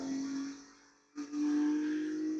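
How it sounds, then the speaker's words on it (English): Race car engine at full throttle on the Buttonwillow circuit: a loud, steady, high-pitched drone with a brief dip and lift in pitch near the middle as the gear shifts, then a sustained wail. "So you can listen to the engine."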